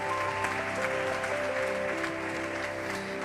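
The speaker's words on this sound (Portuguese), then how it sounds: "Você pode aplaudir a santidade do Espírito" Church congregation applauding during a worship service, dense steady clapping filling the room throughout with faint musical tones sustained underneath.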